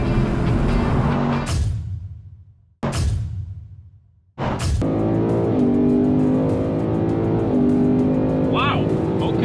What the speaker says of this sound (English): The Mustang just has way more RPMs to work with, and that's a sweet spot in its power band